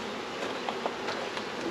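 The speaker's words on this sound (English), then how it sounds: "bees are there" Honeybees from a newly installed package hive buzz in a soft, steady drone, close by and fairly faint, with no talking.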